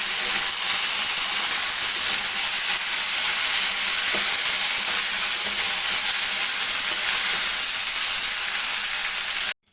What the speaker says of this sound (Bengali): ডাঁটা দিয়ে এখন কষাকষি করছি